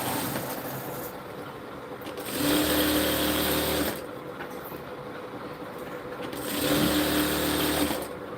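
Electric sewing machine stitching a kurti, two sustained bursts of steady whirring and rapid needle clatter, each lasting about a second and a half, separated by quieter pauses with low background hum.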